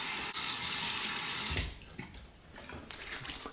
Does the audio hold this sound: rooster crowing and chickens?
no